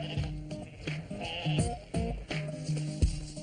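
Sheep bleat repeatedly and loudly during loading on Saunders island, several animals calling over one another in overlapping, close cries with steady farmyard background noise.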